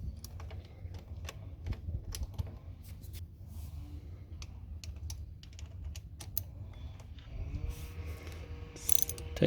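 Ratchet tightening the rear brake fluid reservoir on a motorcycle, producing quiet clicks and light mechanical rattles in uneven bursts, close and soft, with a brief brighter scrape near the end.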